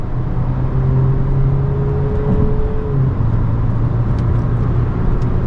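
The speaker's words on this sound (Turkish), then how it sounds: "şöyle bir 70'ten sonra dip gaz yaptım" A 136-horsepower Opel Insignia 1.6 CDTI Cosmo diesel with automatic gearbox pulling hard at full throttle from about 70, a steady droning engine with a rising tone and a gear change midway, no talk.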